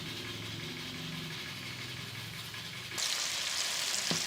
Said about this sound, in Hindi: ये मैंने प्याज ब्राउन करने के लिए रख दिया